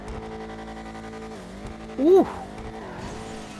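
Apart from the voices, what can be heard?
HSW car engine in a tunnel, from video game GTA 5 Online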